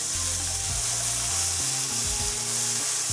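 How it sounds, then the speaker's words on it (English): Ground turkey sizzles steadily in a hot pan, with a spoon stirring and scraping through the meat in short, uneven strokes. The sound is close and continuous, and no one speaks. "So I'm going to just toss in all the turkey. Give it a good stir."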